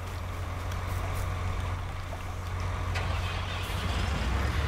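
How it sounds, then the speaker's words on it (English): A tractor engine in Farming Simulator 2019 drones as a steady, loud low rumble, with constant mechanical noise and no breaks. "So that's with this tractor here."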